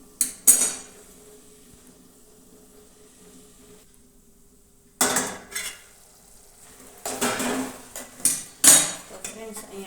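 Clattering metal-on-metal knocks as a lid goes back onto a pot of tomato curry, a few sharp clinks at the start and a cluster of louder clanks near the end, with quiet pauses between.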